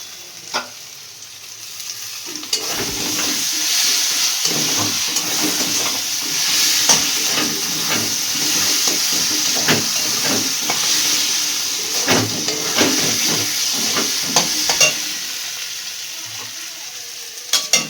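Ginger and spices fry hard in a little hot oil in a pan, making a loud, continuous sizzle broken up by frequent scraping stirs and clicks of the utensil.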